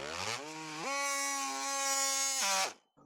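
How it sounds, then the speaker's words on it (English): A power cutting tool slices off a plastic airbox bracket on a Triumph Bobber motorcycle: one sustained, loud, high-pitched whine that rises as it bites, holds steady, then abruptly winds down. "I'm going to cut this bracket off. It's just a piece of plastic."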